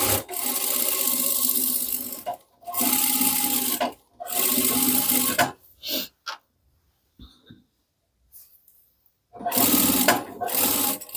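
A sewing machine stitches the strap of a fabric tote bag using a 1/4-inch guide presser foot, running loud and close in three long bursts, then short stops and starts, and a final burst.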